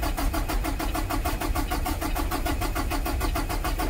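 Peterbilt 389 truck engine cranking in a steady fast rhythmic churn, loud and close, continuous throughout with no voices.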